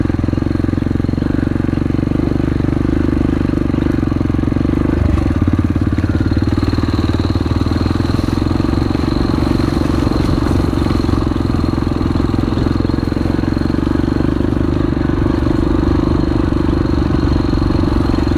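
A Yamaha TTR trail motorcycle engine drones loud and steady while being ridden, holding a constant throttle with a slight shift in tone partway through, dominating the sound throughout.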